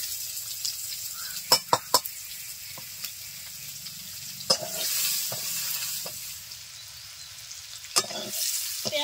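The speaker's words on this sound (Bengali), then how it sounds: "পেঁয়াজটা ভাজা হয়ে এসছে" Chopped onions frying in oil with cumin seeds, bay leaves and dried red chillies, a soft continuous sizzle broken by several sharp clinks and scrapes of a spatula against the pan.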